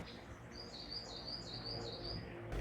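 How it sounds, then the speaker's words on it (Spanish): Coal tit, a small European tit, gives a run of thin high-pitched chirping calls at moderate distance, repeated rapidly in a short series over faint outdoor background noise. "Carbonero garrapinos."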